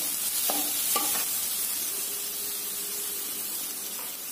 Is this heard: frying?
yes